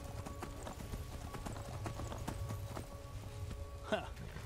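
Steady clip-clop of horse hooves at a quick gallop in the video game Skyrim, continuous and even, with a brief louder thump near the end.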